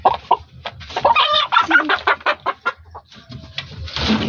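Chickens on a farm cluck loudly and close by in quick, choppy bursts, several birds overlapping in a busy chatter.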